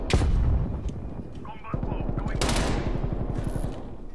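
Video game gunfire rattles in a loud opening burst, then rapid automatic shots repeat in a fast even rhythm after a short lull, with a player's voice talking over the action.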